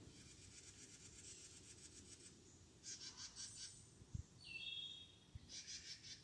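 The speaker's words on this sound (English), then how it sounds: "I heard a different call, and it was like it was saying 3 days, 3 days, 3 days." A wild bird calls in a repeated three-part phrase, a series of high, fairly faint chirps spread over several seconds against quiet outdoor ambience, with no talking.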